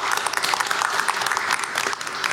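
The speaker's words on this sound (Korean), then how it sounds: "다시 한번 큰 박수 부탁드리겠습니다" An audience applauds at a municipal safety forum in Ulsan, steady continuous clapping from a crowd filling the whole stretch at fairly loud level with no talk.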